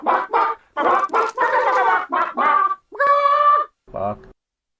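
Chicken clucks and a short rooster-like call, a series of loud, close bursts of clucking ending in a drawn-out squawk.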